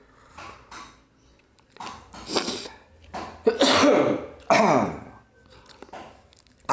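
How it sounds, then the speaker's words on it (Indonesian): A person coughing repeatedly just after waking, several separate harsh coughs and throat-clearing bursts spaced out over a few seconds, fairly close and alone with no talk. "Aku tuh kalau tidur enggak batuk, tapi kalau bangun batuk, itu juga heran."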